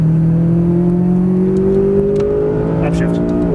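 A McLaren 570S Coupe's engine revs hard under full throttle on a track driving experience, a loud, steady rising drone with climbing harmonics, and a voice speaking over it.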